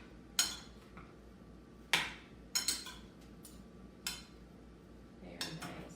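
Utensils clink and scrape against a bowl as ingredients for chicken cabbage rolls with a Mexican veggie salad are mixed, several sharp metallic knocks at uneven intervals over a quiet background.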